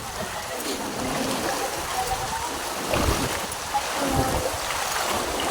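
A clear river stream fed by a mountain spring, at a spot where people bathe and do laundry, flows with a steady, close broadband rush of water that stays even throughout.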